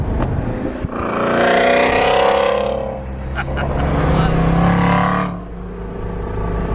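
A Shelby car's engine revs and roars past nearby, two loud rising surges of exhaust rumble with a brief dip between them, under a person talking.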